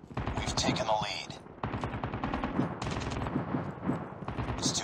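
Rapid gunfire from a Call of Duty Mobile ranked match using an M4 rifle, sharp bursts of shots crackling in quick rhythm across the stretch, mixed with in-game voice callouts.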